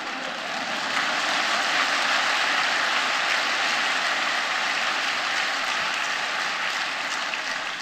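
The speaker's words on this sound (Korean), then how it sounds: "여러분 우리 하나님께 영광 박수 드리기를 바랍니다" A large church congregation at a fasting prayer retreat applauds together, a steady, dense wash of clapping that stays loud and even throughout with no talking over it.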